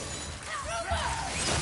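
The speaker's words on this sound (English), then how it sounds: "Never get tired of shattering things with this." Objects shattering in the video game God of War, a continuous crashing, breaking wash lasting under two seconds over dense game sound and possible voices.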